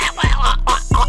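A voice imitates a bonfire with a short burst of loud, rough vocal noises repeated in quick uneven pulses, close to the listener.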